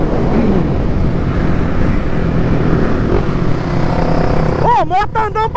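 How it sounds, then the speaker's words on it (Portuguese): A Honda Fan 160 motorcycle rides at high speed, its engine drone and rushing wind loud and steady throughout, with a voice speaking over it near the end. "moto tá andando pra porra, doido"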